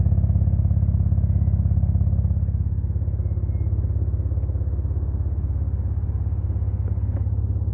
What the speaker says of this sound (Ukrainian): Дуже приємно звучить вихлопна система.